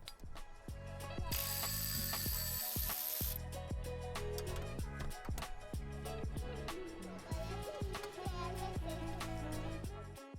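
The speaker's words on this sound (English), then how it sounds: "Loosen the 2 alternator lower bolts." Ratchet wrench working the lower alternator bolts on a Mercury Grand Marquis, a continuous rapid clicking pawl rattle with metallic scraping, close and steady throughout.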